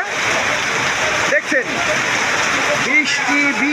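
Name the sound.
heavy rain with wind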